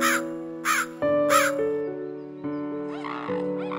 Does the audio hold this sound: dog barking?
no